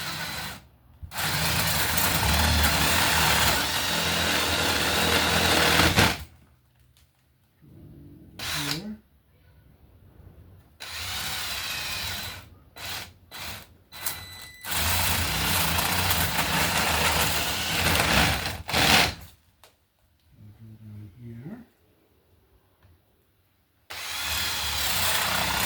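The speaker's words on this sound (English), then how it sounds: "So we'll drill our holes so they're" A power drill bores holes into a wall while a wall light is installed, running loud in several long bursts with short pauses, the last few pulses brief, and some talking heard between the runs.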